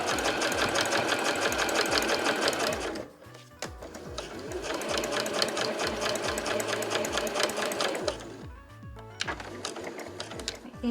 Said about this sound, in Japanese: この押さえの端と布の端を合わせて縫っていきます。